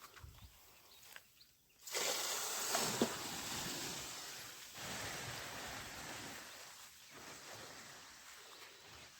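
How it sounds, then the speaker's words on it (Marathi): Irrigation water released into a farm plot rushes in a steady, broad wash that starts suddenly after a quieter moment and keeps flowing at an even level until the end. "आता सध्या ह्या प्लॉटला पाणी सोडतोय."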